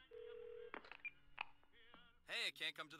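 A phone call being dialed in the time-loop thriller game Twelve Minutes: a steady dial tone, then a short run of keypad beeps, followed by a brief electronic ringing burst near the end, fairly quiet overall.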